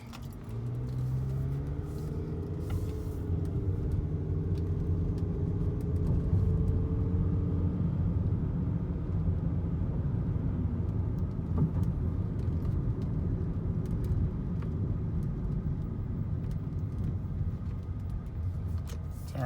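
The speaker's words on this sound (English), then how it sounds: "I want y'all to be able to hear the car." A 2003 Toyota Camry cruises with a low steady engine hum and constant road rumble heard from inside the cabin, with faint rattles and clicks above it and no talking.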